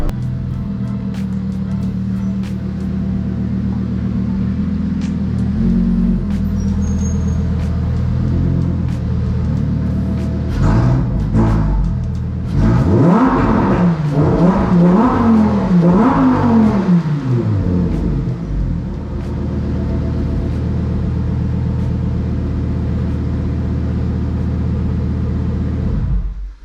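Stock Lamborghini Huracan, yellow and newly delivered, revving hard alone: a steady idle rumble swells into a series of rising and falling throttle blips in the middle, then settles back to a loud, even drone.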